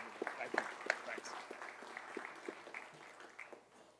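Brief, fairly faint applause greets Louisville Mayor Craig Greenberg at an LMPD promotion ceremony, scattered claps fading over a few seconds with some background voices.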